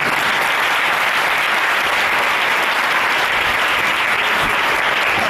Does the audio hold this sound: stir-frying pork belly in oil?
no